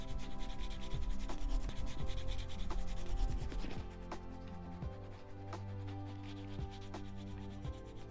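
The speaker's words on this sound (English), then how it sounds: "Take the narrowest slot of the wood slicker to rub against. Move back and forth fast for 10 seconds." Wood slicker rubbed quickly back and forth along a leather edge, a steady dry scraping friction sustained for several seconds, close and fairly quiet, with no talk.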